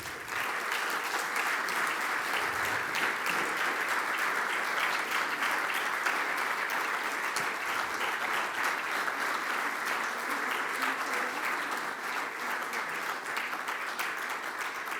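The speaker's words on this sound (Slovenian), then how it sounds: "Aplavz za ekipo Pipistrel Vertical Solutions." An audience applauds the Pipistrel Vertical Solutions team at an innovation awards ceremony, steady dense clapping filling the hall for the full stretch without a break.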